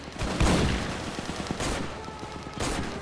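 Several heavy cannon shots ring out in a Roblox airship war game, with a big blast early and two more spaced bursts, plus rattling gunfire between them.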